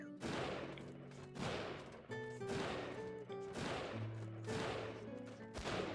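Rapid bursts of gunfire from an enemy in the 2D action game Death's Gambit, sharp shots in quick clusters over a sustained tonal music bed, fairly loud and close.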